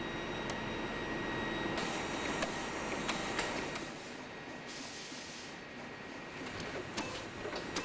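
A CE 150 hot stamping machine prints labels and narrow fabrics, running with a steady mechanical whir and a scatter of sharp ticks and clicks throughout, fairly close and without any voices.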